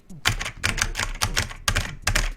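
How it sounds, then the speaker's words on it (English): A mechanical computer keyboard clatters in four or five dense bursts of rapid, loud, close keystrokes separated by brief pauses, with no talking. "Also, I've got a mechanical keyboard,"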